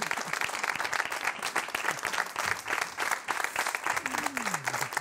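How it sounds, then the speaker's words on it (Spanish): Studio audience on a Spanish television show applauding, dense sustained clapping that stays loud and even for the whole stretch, with a brief low tonal sweep near the end. "Un aplauso para ella."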